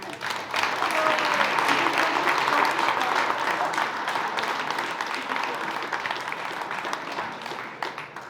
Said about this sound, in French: Ça mérite d'ailleurs quelques applaudissements.